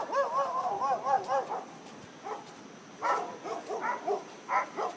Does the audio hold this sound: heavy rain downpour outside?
no